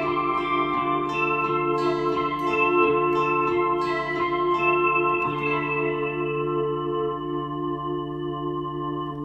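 An organ machine set to its Press Tone preset plays sustained chords with a few bright stabs and some echoing reverb, up close and alone with no voices.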